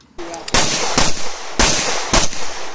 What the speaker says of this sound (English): I ended up standing there and shooting for a little bit